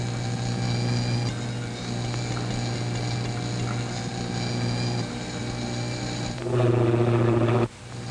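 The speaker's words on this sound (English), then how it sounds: "The plane should be practically overhead." Steady propeller-plane engine drone, a continuous loud hum with a low buzzing tone and no talking, swelling briefly near the end before cutting down.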